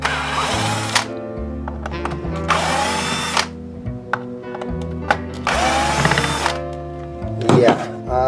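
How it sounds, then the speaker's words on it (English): A power drill whirs in repeated bursts while backing out the neck screws of a Fernandes Revolver FR-55 electric guitar, revving up and down in short pulls, close and loud, with faint clicks between runs. "I'm taking my drill and I'm going to pull the neck."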